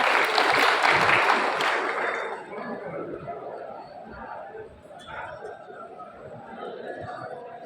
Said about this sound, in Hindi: जोरदार तालियों से सबका स्वागत